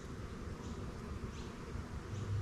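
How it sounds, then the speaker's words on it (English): Honeybees buzzing at a hive entrance, a steady soft droning hum that stays close and continuous throughout, with no voices. "I'm just watching some behaviour here at the hive entrance. And the bees are starting the procession"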